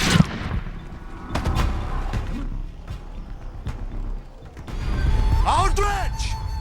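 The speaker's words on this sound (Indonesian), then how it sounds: "tanpa diduga Samidi muncul dan langsung menembak Warlock tak berdosa agar Wes mau keluar dari persembunyiannya." Gunshots crack out in a film scene, several sharp reports scattered over a few seconds amid action sounds and a dramatic score, with voices mixed in.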